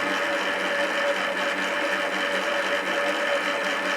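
A FAMAG spiral dough mixer runs at speed 8, giving a steady, close mechanical hum and whir with a constant tone throughout, no talking over it.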